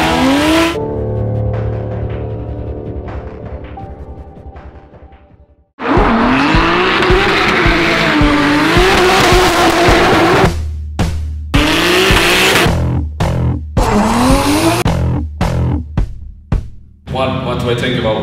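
A professional drift car screams at high revs while its tires squeal and skid. The engine note changes with each burst of throttle, broken by sharp gaps and renewed screeches, loud and close.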